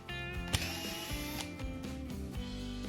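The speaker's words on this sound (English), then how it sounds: "speed up your drill" A combi drill whirs in short bursts while unscrewing a screw, with a ratcheting, grinding mechanical buzz, close and moderately loud.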